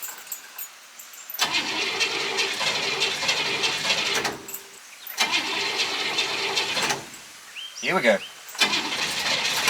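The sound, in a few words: old car engine cranking and starting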